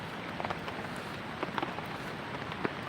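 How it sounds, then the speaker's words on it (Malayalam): A hard downpour by the Vamanapuram river makes a continuous wash of hiss, broken now and then by sharper drips and spatters nearby. "ശക്തമായ മഴയാണ്"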